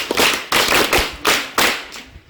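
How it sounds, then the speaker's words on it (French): Classroom of students in a Togolese high school bursts into applause for a classmate, in four distinct rhythmic rounds of quick, loud clapping, each swelling sharply then fading, with no talk. "Acclamez pour elle."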